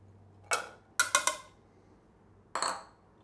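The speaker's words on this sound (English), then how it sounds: "in a separate mixing bowl, mix the kidney beans, sweet potatoes, tomatoes, broccoli, green onions," Vegetables and kidney beans being mixed in a bowl, with a handful of quick clinks and knocks of a utensil against the dish in short bursts, otherwise quiet.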